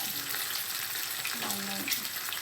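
An omelette frying in a pan gives a steady, soft sizzle that runs through the whole stretch, with a faint clink or scrape near the middle and no talking.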